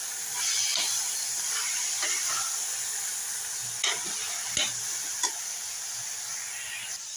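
Chopped jackfruit frying in a pan for a sprouted gram sambar, a steady hiss and sizzle with a few sharp scraping knocks of a spoon as it is stirred, close and without talk.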